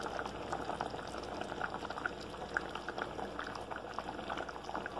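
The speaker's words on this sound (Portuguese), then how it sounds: "E agora é só esperar cozinhar o macarrão." Angel hair pasta soup boiling in a pot, steady close bubbling and popping of liquid at a low, constant level with no talking.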